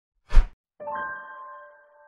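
A soft thump followed by a single clear bell-like ding that rings briefly and fades, alone in silence.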